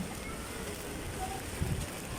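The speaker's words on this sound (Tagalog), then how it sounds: "So ulan, lakas ng ulan guys." Steady heavy rain pours down outdoors by a church in Divisoria, Manila, with a constant broadband hiss, a few louder low splashes or drips near the end, no voices.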